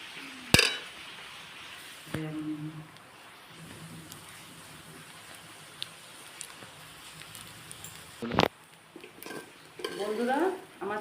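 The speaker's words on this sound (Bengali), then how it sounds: "আমার চালটা ভাজা হয়ে গেছে" Rice frying and being stirred in a pan for vegetable pulao, a soft low sizzle with a few sharp spoon scrapes and clinks against the pot, alone and fairly quiet.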